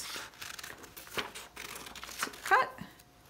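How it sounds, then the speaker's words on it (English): Scissors snipping through paper while egg shapes are cut out for a spring bird craft: quiet, scattered crisp snips and paper rustles, with one more distinct crinkly cut near the end. "I'm going to use my scissors to cut."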